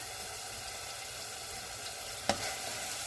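Onion stir-fries in a pan with a steady, even sizzle, and one sharp scrape or clink of a utensil partway through, all at close range with no talking.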